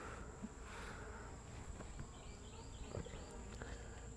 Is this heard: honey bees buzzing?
yes